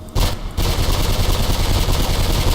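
Rapid, continuous bursts of gunfire in the video game Mirror's Edge, loud and close, rattling on after a brief pause near the start.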